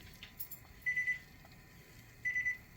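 Kitchen timer beeping as it is set while making homemade bagels, two short bursts of rapid high electronic beeps about a second and a half apart, clear over quiet room tone with no talking.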